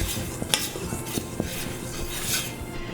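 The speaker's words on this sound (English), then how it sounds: "I'm going to use my whisk to make sure that it's all blended well" A whisk blends flour, baking soda, baking powder and salt in a bowl for no-knead bread, making a continuous scratchy stirring sound broken by sharp metallic clinks against the bowl's side.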